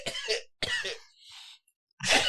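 Three close, harsh coughing bursts in quick succession, loud and near, with short silent gaps between them and no speech; the coughs come from the head rather than the chest.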